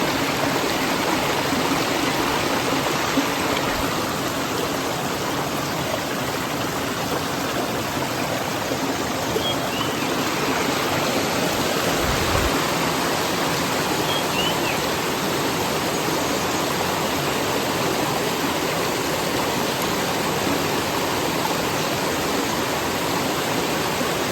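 Steady rushing of flowing river water where two rivers meet in Konkan, a broad unbroken wash with no voices, close and fairly loud.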